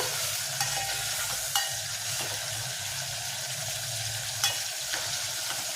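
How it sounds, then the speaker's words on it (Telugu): Pieces of dried fish fry gently over a low flame, giving a soft continuous sizzle. A spatula stirs them slowly, adding a few distinct clinks and scrapes against the pan, with no one talking. "ఎండు చేప ముక్కలు చిట్కిపోకుండా ఇట్లా మెల్లగా కలుపుకోవాలి సిమ్లోనే పెట్టి ఫ్రై చేసుకోవాలి"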